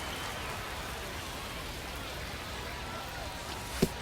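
Heavy rain falls steadily on a baseball field, a constant hiss of drops at moderate level, with a brief sharp knock near the end.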